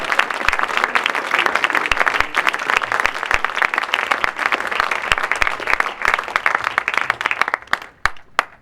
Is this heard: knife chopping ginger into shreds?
no